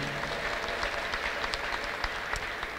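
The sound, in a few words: congregation applause and ululation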